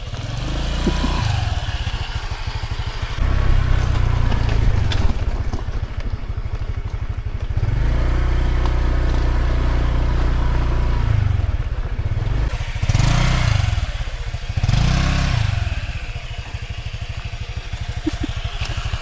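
A motorcycle scooter with a CVT engine riding through river water, the engine droning loudly and steadily close by, with repeated surges and splashing clatter as it pushes through the water.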